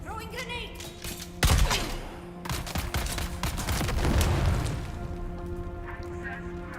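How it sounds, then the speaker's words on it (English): Grenade blast in the Dune Awakening video game: a sudden loud burst of noise with a rumbling low-end tail, followed by crackling debris and scattered gunfire-like pops. "Throwing grenade."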